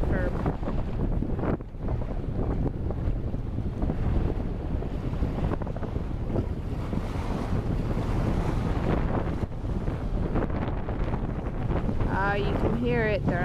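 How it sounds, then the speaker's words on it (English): Strong wind buffets the microphone with a constant loud rumble and roar, water and waves faintly underneath from a Glastron boat on the water, a brief voice near the end. "it is windy out here"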